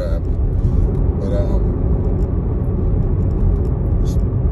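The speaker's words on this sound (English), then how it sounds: "If y'all hear noises in the background, you know, I'm driving." Steady low rumble of road and engine noise inside a moving car, continuous and fairly loud, with someone talking over it.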